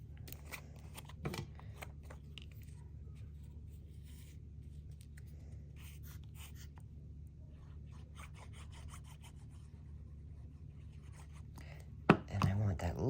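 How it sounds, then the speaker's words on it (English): Scissors snipping lace during a craft project: faint, scattered crisp cuts over a steady low hum, ending with a louder sharp clack, no talk over it. "Where's my scissors?"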